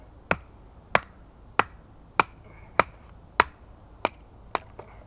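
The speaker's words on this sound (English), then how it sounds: "problem with a piece of wood that's bending like that when you hit it" Sharp wooden knocks strike about nine times at a steady pace, each a crisp crack with a short ring, as a bending piece of wood is hit outdoors in the woods, close by with no talking.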